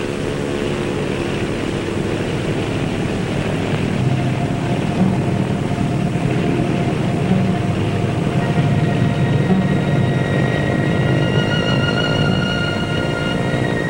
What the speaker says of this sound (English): Out in the dispersals, you hear them winding up those engines.